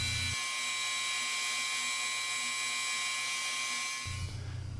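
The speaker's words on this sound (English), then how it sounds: "So I'm just cutting this groove down as far as I can get without gouging into the outside perimeter of the knob." A rotary tool cuts a groove into a motorcycle glove box key knob for a Honda Goldwing GL1800, giving a steady high-pitched whine with a faint grinding hum that shifts pitch near the end.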